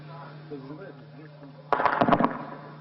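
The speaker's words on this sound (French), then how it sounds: "des coups de feu retentissent à nouveau" A rapid burst of sharp cracks, like distant gunfire, breaks out after a quiet stretch with faint voices and a steady low hum.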